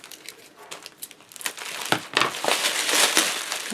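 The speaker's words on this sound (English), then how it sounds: "Take the tape off." Tape peeled off a craft package of cutting dies: crackly crinkling and tearing rips in uneven bursts, close up and growing louder, with no talking.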